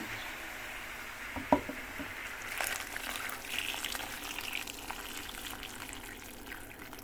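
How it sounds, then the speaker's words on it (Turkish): Boiled water is poured into a pot of zucchini stew. A sharp clink comes first, then a steady, close splashing pour that runs for several seconds. "Şimdi kaynamış suyunu koyacağım arkadaşlar."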